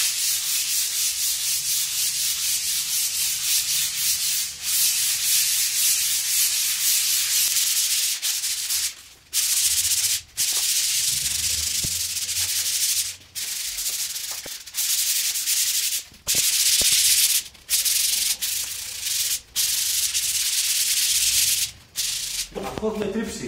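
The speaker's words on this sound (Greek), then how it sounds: "Αφού έχουμε τρίψει με το γυαλιόχαρτο αυτό όλη την επιφάνεια" Hand sanding of a damp-damaged bathroom wall patch with sandpaper, a steady loud rasping scrape that runs almost continuously with several short pauses between strokes, no voices.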